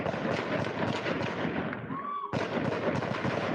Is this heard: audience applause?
no